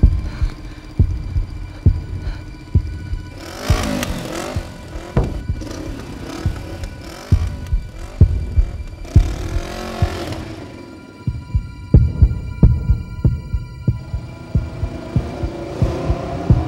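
A dramatized pounding heartbeat thumps in a steady, heavy rhythm throughout, loud and close, with two swelling whooshing effects rising over it partway through.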